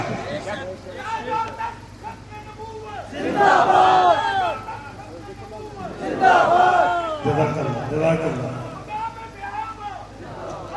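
A large crowd at a religious conference on the finality of prophethood shouts a slogan in loud, swelling bursts, two big surges rising over steady background voices and murmur.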